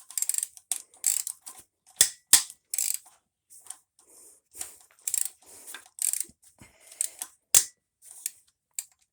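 A wrench or ratchet slowly breaking loose a tight stud, producing a series of sharp, separate clicks and cracks in irregular rhythm, each a short snap from close by with quiet pauses between, and no talking.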